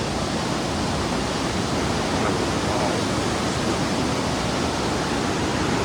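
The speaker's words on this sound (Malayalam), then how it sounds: "നല്ല വെള്ളം എന്ന് പറഞ്ഞാൽ നല്ല കുത്തിയൊലിച്ച് നല്ല അടിപൊളിയായിട്ട് വരുന്നുണ്ട്" A forest river rushes strongly, a loud, dense and unbroken roar of churning water heard close by and steady throughout.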